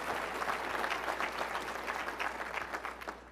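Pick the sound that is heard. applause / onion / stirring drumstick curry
applause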